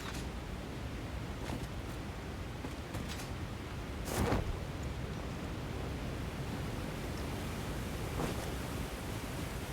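Rushing water from a waterfall in the factory-building game Satisfactory, a steady broadband wash of noise throughout, with a brief louder gust near the middle.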